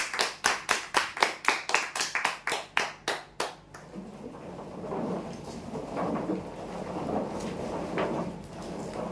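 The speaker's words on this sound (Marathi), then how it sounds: "जोरदार टाळ्या होऊ द्या यांच्यासाठी।" About a dozen sharp, evenly spaced claps ring out over three and a half seconds for prize winners at a lucky draw, then give way to a low, diffuse crowd murmur.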